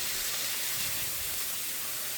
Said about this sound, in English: the shrimp is started to get cooked